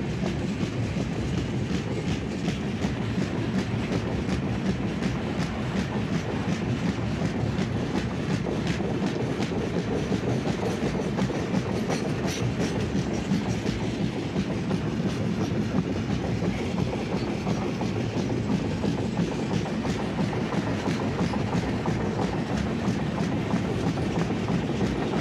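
Onboard the Mandovi Express of Indian Railways, wheels clatter in a rapid, steady clickety-clack under a constant loud rumble from a moving carriage, continuous and close, with no voices.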